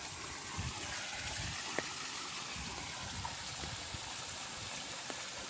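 Water from a farm stream spills down a small waterfall, a continuous broad rushing wash with faint occasional drips and clicks, steady and moderately distant with no talking.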